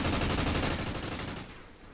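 Rapid automatic gunfire in Call of Duty Ghosts multiplayer, a dense, continuous burst of shots close up that tapers off and fades toward the end.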